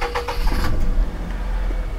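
A Daihatsu car engine, warm from driving, cranks and catches near the microphone, settling into a steady low rumble that runs through the whole two seconds.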